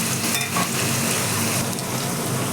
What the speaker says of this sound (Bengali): এটাকে আমি একটু নুন আর হলুদ দিয়ে লাল লাল করে ভেজে নেব।